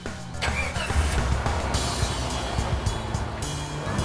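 A beat-up old Jeep's engine cranks and catches, then settles into a rough, steady idle with a low rumble, close and loud, with no talking over it.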